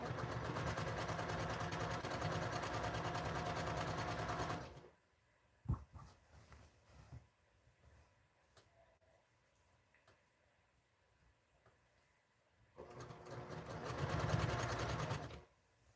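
A sewing machine stitches a scrap quilt, running in steady loud bursts at the start and again near the end, with quiet clicks and handling noise in between.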